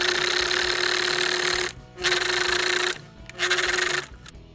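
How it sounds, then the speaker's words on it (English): Sewing machine stitching a quarter-inch side seam with wrong sides facing, in three steady bursts of running, each pausing briefly between, loud and close with no talking. "So you're going to lower your presser foot and sew your normal stitch."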